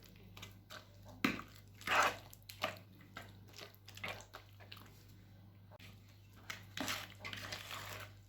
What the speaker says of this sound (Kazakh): венчиктің көмегімен араластырып жатырмын